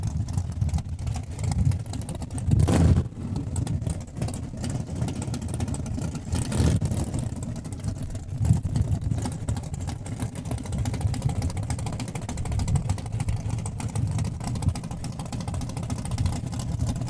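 A Ford Mustang drag car fitted with a Chevy engine launches at Saskatchewan International Raceway in Saskatoon during a points race, a loud sustained engine roar with brief surges, heard from trackside amid steady crowd and ambient noise.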